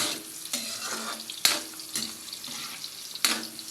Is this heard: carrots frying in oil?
yes